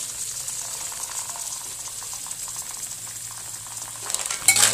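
Surf clams and garlic sizzle and hiss in a hot pan while being stir-fried, a steady close frying sound with a louder scraping, sputtering burst at the end.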